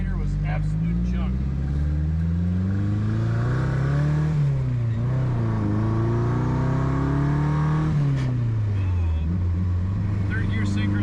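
A turbocharged Datsun 510 with a KA24DET engine, driven through rising and falling revs across several gear changes, the engine loud and close from inside the car, with someone talking over it.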